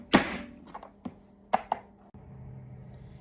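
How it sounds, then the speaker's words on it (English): A handheld food chopper cutting vegetables and tomatoes, four or five sharp close chops at uneven intervals, then a quiet, steady background with no talk. "we are going to chop this up. I'm using my chopper."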